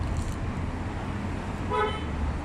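Evening street traffic on a congested road near a service road entrance, with a steady low engine rumble and a short car horn toot near the end, no talk.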